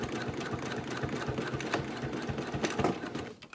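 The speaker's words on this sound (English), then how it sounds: "I just finish sewing and until I meet where I started, and I backstitch" A sewing machine runs steadily as it stitches a hanging toiletry bag, finishing a seam and backstitching, with a fast continuous mechanical whir and faint rhythmic clicks up close, stopping near the end.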